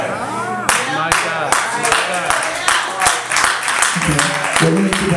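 A church congregation claps during an anniversary service, a run of sharp, fairly close hand claps that quickens into a steady beat over a warm background of voices and music.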